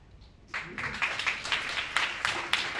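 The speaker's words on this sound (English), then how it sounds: "Give applause" Audience applause at a community-based universal health coverage event, a steady burst of clapping that starts abruptly and continues from many hands close by.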